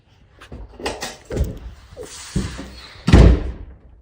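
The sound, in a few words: door being shut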